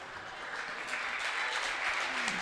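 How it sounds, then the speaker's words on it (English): Applause for a player at a boys' high school basketball tournament game in a gym, a steady wash of clapping from a crowd, fairly distant and continuous throughout. "Give that man a round of applause"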